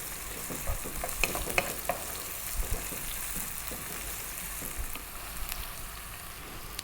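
Cumin seeds, two teaspoons, fry in a pan while being kept moving, giving a steady close sizzle with scattered light scraping and stirring taps throughout.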